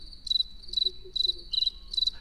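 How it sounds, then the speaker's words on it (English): Cricket chirping sound effect: five evenly spaced, high trilling chirps repeating in a steady rhythm over a quiet background, clear and close. "Crickets."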